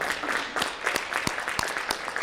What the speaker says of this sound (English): give your family and friends a round of applause